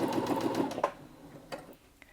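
A Brother Innov-is A50 sewing machine runs a quick burst of stitching, a fast close mechanical whir that stops after under a second, followed by a few light clicks and taps.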